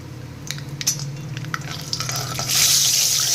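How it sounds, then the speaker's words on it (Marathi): Peanuts roasting in a pan, with scattered stirring clicks and rustles that give way to a louder, steady hiss of frying toward the end, close by. "पहिले याच्यामध्ये आपण शेंगदाणे थोडेसे परतून घेऊयात"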